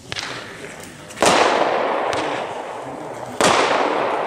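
Midnight Rider compound firework battery of 211 shots, set off at a cellar test shoot in Nuremberg: sharp cracking bursts with crackling tails, two especially loud bangs amid steady hissing and fizzing, heard at moderate distance.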